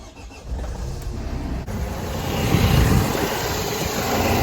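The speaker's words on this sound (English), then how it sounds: "Just gonna fire up the vehicle to check for any leaks, and then let it run for about 5 to 10 minutes." A Renault Trafic MK2 van engine cranks and catches, then settles into a loud, steady idle rumble that swells slightly and holds, close by and without talk.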